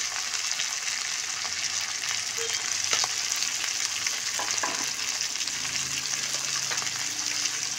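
Green chili paste fries in a hot pan for a chutney with dried fish, potato and long beans, giving a loud, steady sizzle throughout with faint stirring scrapes and no talk.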